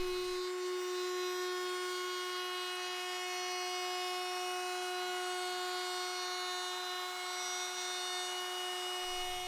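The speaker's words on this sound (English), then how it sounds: "Then I'll go around it with a flush trim bit to even things up." A router with a flush trim bit trims the wooden edge of a psalmodikon, giving a loud, steady high-pitched whine that holds unbroken for the whole stretch with no talking.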